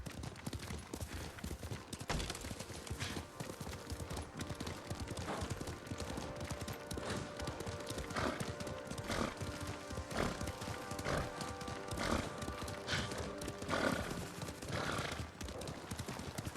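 Horses trotting with clip-clop hooves and occasional neighs in the video game Ghost of Tsushima, steady and moderately loud, with a busy layer of game ambience and sporadic sharp bursts underneath.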